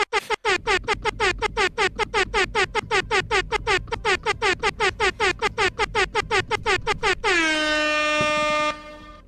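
A harsh, distorted air horn blasts in rapid repeated bursts for several seconds, then ends on one long sustained honk that cuts off abruptly.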